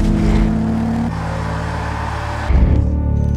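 Volkswagen Golf GTI Rabbit Edition engine revving nearby, a loud steady drone that drops off and then surges again at the end.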